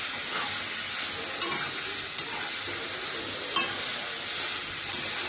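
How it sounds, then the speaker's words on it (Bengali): Shrimp and spices stir-fry in a pan with a dense, continuous sizzle and occasional spatula scrapes and knocks against the metal, close and fairly loud, with no talking. "চিংড়ি মাছটাও দিয়ে দেবো। এবার ভালো করে কষাবো।"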